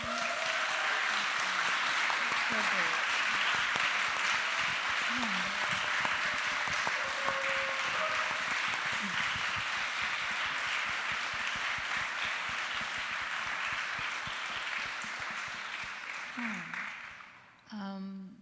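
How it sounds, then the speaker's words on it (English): Guests at a panel discussion are applauded by the audience in sustained, even clapping that fades toward the end, where a voice speaks briefly. "If you want to get a moment to applause all of our guests today."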